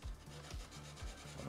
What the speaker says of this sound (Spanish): le lijamos los bordes con una lija gruesa, esmeril